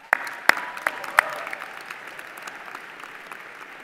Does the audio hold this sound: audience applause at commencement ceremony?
yes